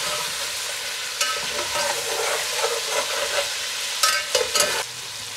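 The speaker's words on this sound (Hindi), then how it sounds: "ब्राउन नहीं हो गया, फ्राई हो गया।" Chicken frying in a pan for Kabuli pulao, a loud continuous sizzle with bursts of stirring and scraping, the crackle swelling briefly toward the end.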